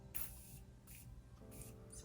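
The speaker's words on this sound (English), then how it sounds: "the Jeffree Star and Morphe setting spray" Jeffree Star and Morphe setting spray mists out in a few short hissy bursts, close and quiet, each spritz lasting under a second with gaps between, over faint room noise.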